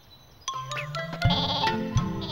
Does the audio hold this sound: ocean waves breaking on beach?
no